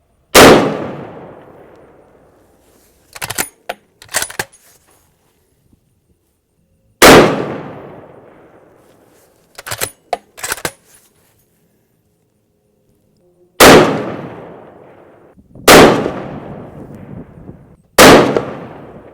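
Five loud, booming shots ring out from a Savage 110BA .338 Lapua Magnum rifle firing 250 grain Sierra Match King ammunition, each with a long decaying echo, separated by quieter metallic bolt clicks between shots.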